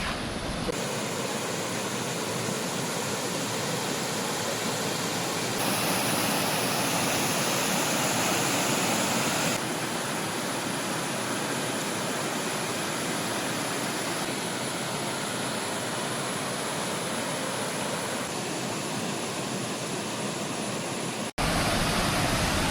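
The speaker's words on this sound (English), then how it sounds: "So right now we are at Arivikutu Waterfalls." Roaring water at Arivikutu Waterfalls, a loud, dense, unbroken wash of noise that fills the whole stretch with no voices, shifting slightly in tone partway through.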